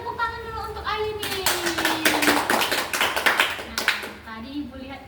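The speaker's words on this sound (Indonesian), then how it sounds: "Kita beri tepuk tangan dulu untuk Ayu nih." A classroom of students claps for a classmate, a burst of rapid overlapping hand claps that swells and fades, with a teacher's voice speaking before and after.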